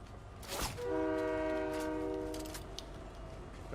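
A train horn in Fortnite blares in one long, steady blast after a brief burst of noise, loud and fairly close, with no one speaking.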